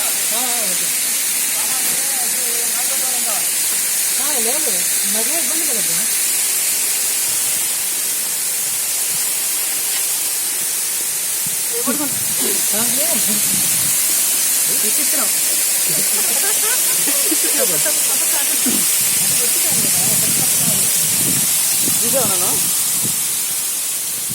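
The Bhairavakona waterfall roars as a steady broadband hiss throughout, with people talking over the constant rush of falling water.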